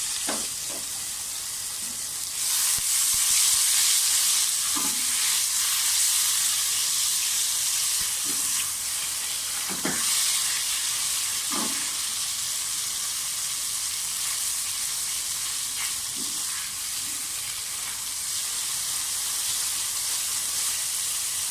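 Garlic paste hitting hot cooking oil in a pan gives a steady, bright sizzle that holds throughout, with occasional soft stirring clacks underneath.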